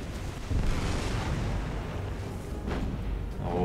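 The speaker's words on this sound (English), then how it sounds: "Oh, here a big explosion there." A big explosion in the naval combat video game War on the Sea, a deep, rumbling boom that rolls on steadily and fills the low end, with no voices over it.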